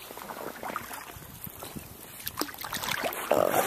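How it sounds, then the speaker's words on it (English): Paddling a small boat on the Suisun slough, soft irregular splashes and water trickles from paddle strokes with light wind, close and fairly quiet, no talking. "And we're just gonna keep paddling."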